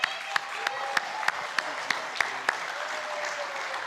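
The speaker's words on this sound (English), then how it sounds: "Let's give a round of applause" Audience applause at a church fellowship event with a wildlife presenter, a steady wash of clapping with a few sharper claps standing out at regular intervals, sustained throughout.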